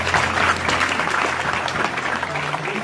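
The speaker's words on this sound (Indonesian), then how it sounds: "sekarang tepuk tangan untuk terakhir Pak Muzamil ya" An audience at an Indonesian talk gathering gives a final round of applause for Pak Muzamil, dense sustained clapping from a crowd filling the whole moment.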